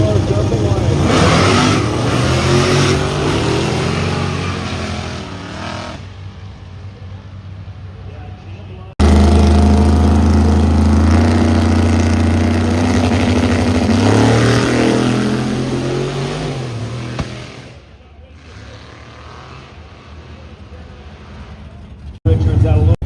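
Drag race cars at the War in the Woods 14 event roar loudly as their engines rev and accelerate, with an abrupt cut to another run before the engine noise drops off and fades into the distance.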